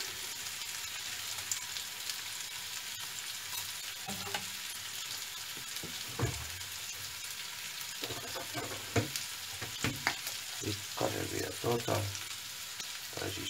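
Food sizzles steadily in hot oil in a pan on a home stove, a constant crackling hiss with scattered louder pops and stirring scrapes, close and continuous, with no talking.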